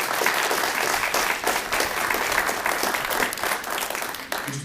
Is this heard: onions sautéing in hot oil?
no